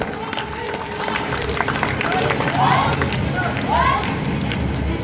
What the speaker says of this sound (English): Guys, please give a big round of applause for them.